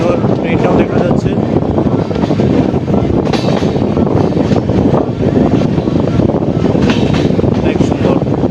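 Train pulling into Silchar station, a steady loud rumble of wheels and carriages with wind buffeting the microphone throughout, close and continuous.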